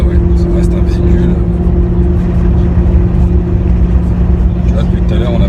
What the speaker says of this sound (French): on a le rappel du V8 dans les oreilles